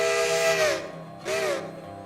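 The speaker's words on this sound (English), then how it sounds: "it comes with a default whistle. I think it's a Lunkenheimer 3." Default Lunkenheimer 3 steam locomotive whistle in the Railroader video game gives two loud, close chime blasts, a long one and then a shorter one, each ending with a falling pitch over steam hiss.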